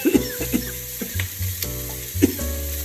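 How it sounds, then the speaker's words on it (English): Sausages fry in a pan for a homemade spaghetti sauce meal, a close crackling sizzle broken by occasional scraping and stirring knocks, with no talk over it. "Cooking sausages."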